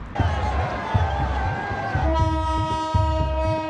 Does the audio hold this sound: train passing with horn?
yes